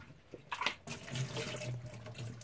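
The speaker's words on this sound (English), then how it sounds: "I'm gonna have running water coming out here, just running warm water" Warm water runs from a tap, a steady hiss and splash that starts with a few knocks and then flows continuously, fairly faint and close, with no talk.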